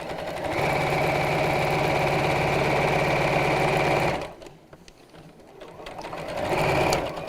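A sewing machine stitches a fabric gift bag in a long, steady, close run of rapid stitching, then stops briefly at a seam before starting up again.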